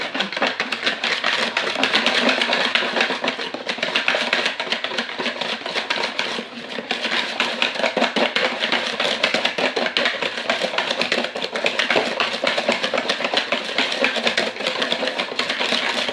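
Electric mixer whisking sugar into egg yolks and butter for a petit beurre cake, a steady dense whirring buzz that runs unbroken and fairly loud throughout, with no talk over it.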